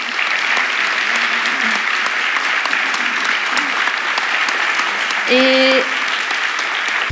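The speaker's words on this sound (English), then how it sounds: "So please make a huge round of applause for our panelists and our speaker." An audience applauds panelists and a speaker at the close of an evening talk on the universe, steady dense clapping filling the room for several seconds, with a brief tonal beep or chime cutting in near the end.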